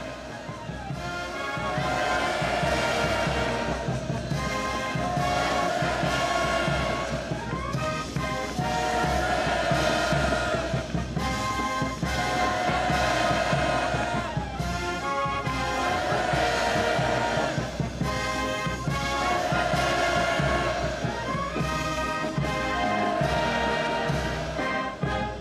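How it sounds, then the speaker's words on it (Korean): A huge crowd in North Korea, greeting President Moon Jae-in's visit, roars storm-like manse cheers in loud, rhythmic waves that repeat every few seconds without pause. "폭풍 같은 만세 환호성을 터쳐 올렸습니다"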